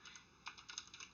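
A computer keyboard is typed on in a short burst of light, quick clicks close to the microphone, faint and without talk.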